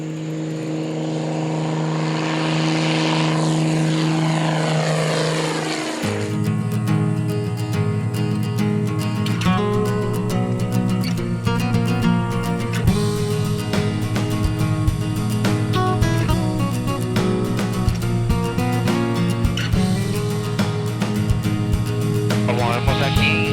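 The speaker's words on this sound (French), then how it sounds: "L'avion est donc le moyen le plus facile pour y aller." A small propeller airplane, the only one flying over the Corcovado in Costa Rica, spools up with a rising engine whine, then settles into a loud, steady propeller drone with a sharp buzzing texture.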